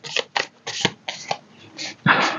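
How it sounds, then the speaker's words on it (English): Tarot cards shuffled by hand in a riffle-like series of about eight crisp, papery bursts, close and loud, with a final heavier slap as the deck settles; no talk. "Wait, let me shuffle this again. It's slipping out my hand a bit."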